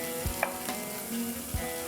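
Pieces of food fry steadily in hot oil until golden, a continuous close sizzle with a few soft clinks and scrapes of a utensil moving them around.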